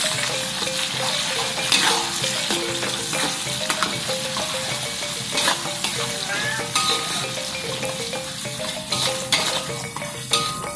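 Sliced tomatoes sizzle in hot oil in a pan for a dish of balado beef, with a steady loud frying hiss, scattered stirring scrapes and clinks of utensil on metal, and no voices.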